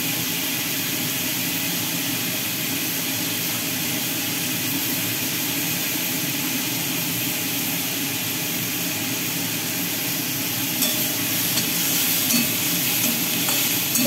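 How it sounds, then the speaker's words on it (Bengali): Chicken pieces coated with turmeric fry in a pan, giving a steady, even sizzle that holds throughout with no talking. "এবার এটাকে ভাজা ভাজা করে নিচ্ছি"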